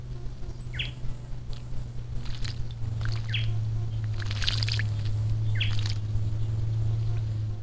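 Several short, raspy calls from a white-naped jay (gralha-cancã) ring out in bursts over a steady low hum, close by amid other birdsong at a garden bird bath.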